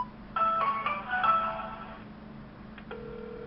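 A telephone call rings out, a chirping electronic ringback pattern of warbling tones for about two seconds, followed by a couple of clicks and a steady single tone, quiet and slightly distant with no talking.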